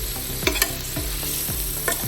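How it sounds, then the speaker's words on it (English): Onions, green beans and bacon sizzle in a pan as they are turned over, a close, steady frying hiss with a few regular scraping strokes and no talking. "you turn them onions and everything over on top"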